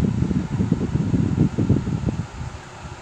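A sewing machine runs in reverse to backstitch and lock a side seam on dolphin shorts: a rapid, close, low mechanical whirring chatter that stops after a couple of seconds.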